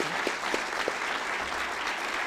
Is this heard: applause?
yes